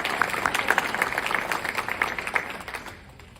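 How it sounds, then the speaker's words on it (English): Audience applause for a guest speaker at a chamber of commerce business training event, steady close clapping from a modest crowd that fades out over the last moments. "Please join me in another round of applause for Sue."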